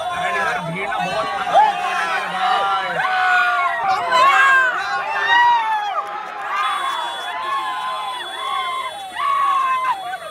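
Large crowd at an Assam Bihu event, many voices shouting and calling over one another in a loud, busy outdoor din that rises and falls throughout.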